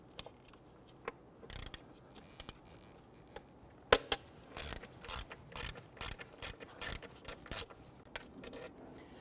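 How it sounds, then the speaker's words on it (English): Ratcheting wrench clicks and metallic tool sounds while unbolting the throttle body on a 2008-2013 Infiniti G37 3.7L V6 engine, with bursts of rapid clicking separated by short pauses, close up. "we're simply going to unbolt it and pull it up to the side"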